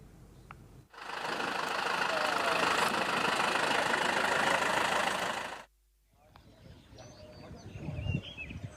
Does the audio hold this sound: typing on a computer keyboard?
no